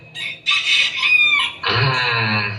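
A rooster crows with a full, close cock-a-doodle-doo, heard alone and loud, its drawn-out call followed by a lower sustained tail.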